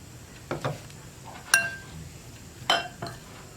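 Cauliflower, rice flour and water get mixed in a bowl, giving a few sharp clinks of a utensil against the dish spread over a quiet, soft background.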